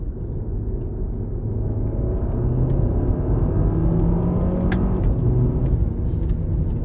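A VW Golf 7 GTI with stock, somewhat muted exhaust cruising along, heard as a steady low engine drone and road rumble from inside the car, even and unbroken for several seconds.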